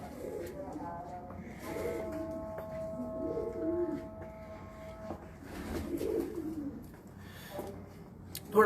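Pigeons on a rooftop in Faisalabad give a series of soft, rumbling coos close by, alongside a few higher tonal calls, with someone speaking in between.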